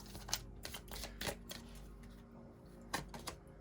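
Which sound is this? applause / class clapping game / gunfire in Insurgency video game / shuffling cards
shuffling cards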